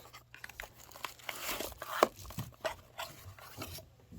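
Paper packaging is torn and crinkled while unboxing a Sony NP-FV100A camera battery, quiet, close rustling and ripping in short bursts with no talk.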